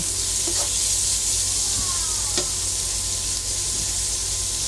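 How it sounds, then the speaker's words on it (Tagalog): Fried tofu pieces sizzle while being sautéed in a pan for chop suey, a steady loud frying hiss with a few brief stirring clatters, no voices. "ibabalik po natin yung pinirito nating tokwa. Isabay na po natin sa paggisa."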